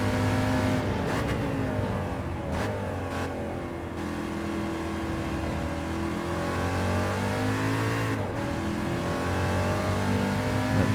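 A touring car engine revs steadily and loud during a Gran Turismo 7 race, holding a continuous mid-pitched roar with gear shifts and brief dips in pitch.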